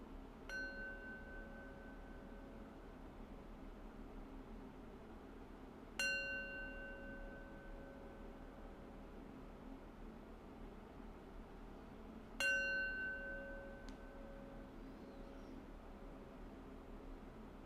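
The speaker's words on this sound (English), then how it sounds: "So I'll ring the bell 3 times" A meditation bell struck three times at roughly even intervals, each strike ringing out clearly and then slowly fading in a quiet room with no talking.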